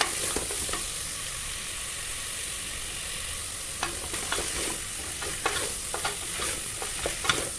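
Vegetables for vegetable rice sizzle steadily in a hot pan while a spoon stirs and scrapes, giving occasional louder knocks over the continuous frying hiss.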